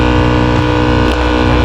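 Worn-bearing AC blower fan in a 2019 Nissan Sunny, a loud, steady droning hum with a buzzing vibration running continuously close up, no speech.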